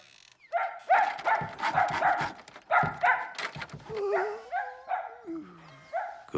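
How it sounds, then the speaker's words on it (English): Bobby the dog barks in a run of sharp, loud woofs and yips close by, the barks coming in quick clusters and one drawn-out whining howl sliding downward near the end. "Bobby's bark."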